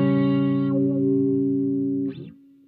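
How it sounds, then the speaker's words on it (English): Old AKAI VariWah W1 wah pedal on the offset setting shapes a held guitar chord that rings steadily and loud, its upper tones shifting briefly, before a final sweeping wah squawk as the note cuts off. "offset to me sounds like it's adding more frequencies to the depth of the wah"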